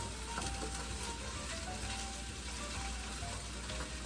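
Vodka sauce for penne sizzling and frying in a pan while being stirred, a steady close crackling hiss with no talk.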